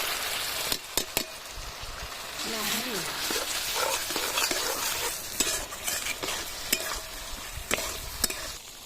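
Washed Gobindobhog rice being stirred into well-fried spiced masala in a pan for chal potol, a steady sizzle broken by sharp scraping stir strokes, with a voice speaking briefly over the cooking.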